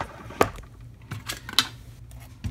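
Cutting a piece of material for a model tower, a few sharp close clicks and snips spaced out over a quiet background.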